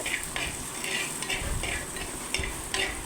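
Curry leaves and green chillies fry in a pan for a Kerala fish curry, stirred with repeated rhythmic scrapes over a steady, moderately quiet sizzle, with no talking.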